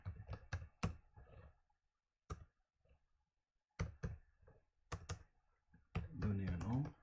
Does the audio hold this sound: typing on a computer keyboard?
yes